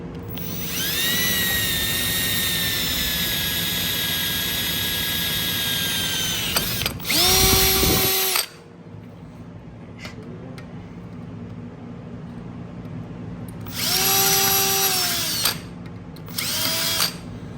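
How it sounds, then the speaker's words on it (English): A power drill bores holes for rivets while wheel lights are being installed: one long whining run, then several shorter bursts with quiet gaps between them, loud and close. "Now I'm going to drill another one."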